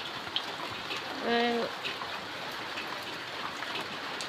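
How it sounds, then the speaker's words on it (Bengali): A steady, soft wash of rain falls on a tin roof in a village during the rainy season. It is low and even throughout, with one brief tonal call rising over it near the start. "টিনের চালা দিয়ে পানি পড়তেছে আর পড়তেছে, এরকম 1 সপ্তাহ যাবৎ বৃষ্টি হইতেছে।"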